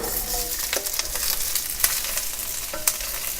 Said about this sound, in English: Starting to smoke, so in go the peppers, onions first.